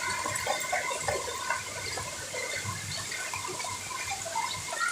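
Heavy rain and rushing water on a flooded road in Chennai, a steady dense wash of flowing and splashing water that stays loud and continuous, with no voices.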